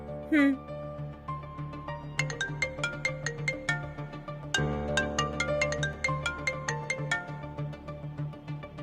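A mobile phone ringtone plays a bright repeating electronic melody, loud and close, cycling through the same short tune.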